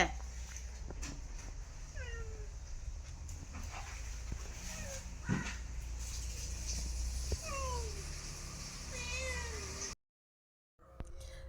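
A cat that has recently given birth meows repeatedly, with short rising and falling cries spaced every second or two against low background hum, fairly close, followed by a brief silence.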